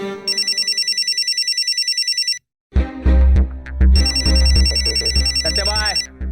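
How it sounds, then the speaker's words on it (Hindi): A telephone rings with a rapid repeating electronic trill, pauses briefly, then rings again over a voice and other sounds. "घंटी जा रही है"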